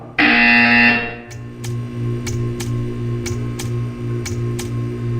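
A loud, harsh electronic buzzer in Portal 2 blares for about a second, then a low hum continues with a series of sharp, evenly spaced ticks.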